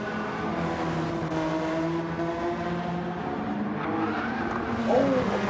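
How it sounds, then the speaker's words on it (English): A GTR drifts through a corner in a GT500 racing video game at High Speed Ring, engine droning steadily with tire squeal rising near the end, under a commentator's voice. "actually testing out the drift capabilities of the GTR then through there"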